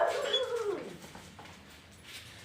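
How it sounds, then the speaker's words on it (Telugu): A pet dog whimpers in a single high, drawn-out whine that slides downward, close and fairly clear, then fades into quiet room background. "ఇదైతే లెక్సీ, చైతన్య వాళ్ళ డాగ్."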